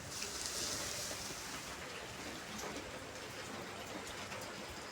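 Steady rain falling outside near a farmyard, a soft, continuous hiss of drops with no breaks, heard faintly and alone.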